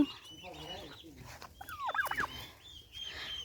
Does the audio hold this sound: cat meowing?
no